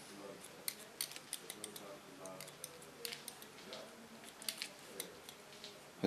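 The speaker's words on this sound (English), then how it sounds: "We're talking about the sound of the scissors." Scissors snipping through hair during a short pixie haircut, a quick close run of crisp metallic snips over a low background hush, with a voice speaking quietly nearby.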